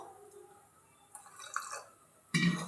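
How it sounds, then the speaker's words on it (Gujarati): Water goes into a bowl of ground mint and gram flour mixture for sev, heard as a few faint soft trickles and drips before a brief louder pour at the end. "આપણે પીસીને તૈયાર કર્યું હતું એમાં થોડુંક પાણી નાખશું"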